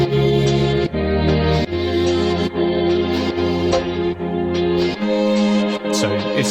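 A cleanly extracted pad stem from the third section of a song intro, a sustained, sweeping synth chord texture that holds steady with a few chord changes, heard alone without voices.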